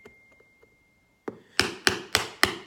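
Hammer blows driving nails into a rubber shoe heel: four sharp, loud, evenly spaced strikes follow a softer first knock, with faint taps and quiet before.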